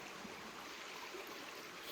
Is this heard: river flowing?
yes